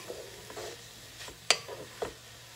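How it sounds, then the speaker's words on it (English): Garlic gets stirred in a cooking pot for a one-pot beef and vegetable dish, with soft scraping and a faint sizzle broken by a few sharp utensil knocks against the pot. "Stir that in."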